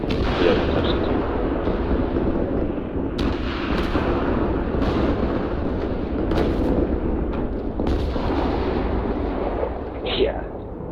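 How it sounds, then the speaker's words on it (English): Rapid autocannon fire and explosive impacts from the game MechWarrior Online, a loud, dense barrage of bursts and booms running continuously with no pauses. "I love the sound of autocannons."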